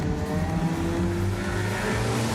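Race cars at Maryborough Speedway, several engines roaring together in a dense, sustained drone at close range, loud and steady throughout with no talk.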